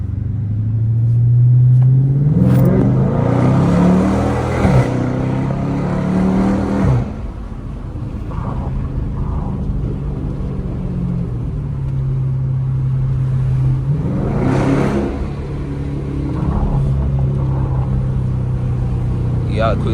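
Car engine with a 300 Blackout setup revving and downshifting on a city street at night, a loud close engine roar swelling and dropping with gear changes, someone talking over it.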